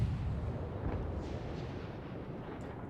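Ship guns of the USS Charleston (C-22) fire in the video game World of Warships, a dense, rumbling roar of overlapping booms holding steady at close range for a few seconds.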